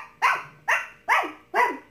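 A voice imitates a dog barking for a Paw Patrol police dog toy, four evenly spaced, close, moderately loud barks in quick steady rhythm with nothing else around them.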